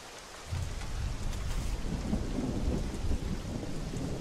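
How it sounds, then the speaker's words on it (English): Rain pours steadily in The Isle video game while a deep rumble of thunder rolls underneath, swelling after the first half second and sustained throughout, with no voices. "I thought that thunder was a dinosaur."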